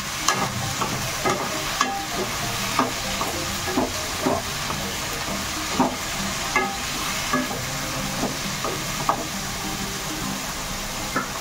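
Ash gourd curry stirred and sizzling in a pan, with steady frying hiss and regular scraping strokes of a spoon against the pan, close and continuous, with no talking.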